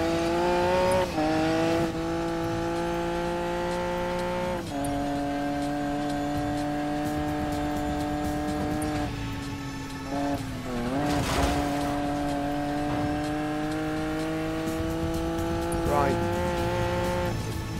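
Racing car engines from Need for Speed Payback drone steadily for most of the stretch, with shifting pitch and a couple of brief tire squeals and revs, continuous and fairly close, no speech over it.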